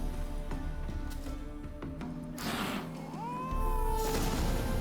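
Cats meowing in The Witcher 3, a few close, drawn-out meows, one rising and bending in pitch, over soft ambient game background.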